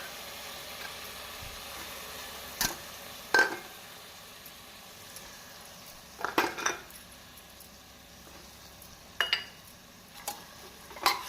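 Mixed vegetables are stirred in a pan while cooking for a white vegetable kuruma, with a soft steady sizzle and sharp metal spoon scrapes and clinks against the pan at irregular intervals, no talk.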